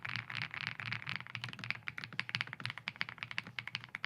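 Rapid typing on an Ajazz AK35i V4 creamy full-size mechanical keyboard with a numpad, a dense close stream of soft, muted keystrokes with no talking.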